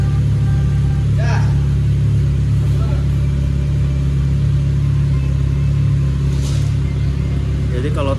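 A Honda City hatchback with an aftermarket Wuzzi muffler idles with a deep, steady exhaust rumble that stays loud throughout, with a faint voice briefly audible over it.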